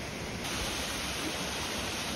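A waterfall roars as a steady broadband rush of falling water, continuous and even, with no talking.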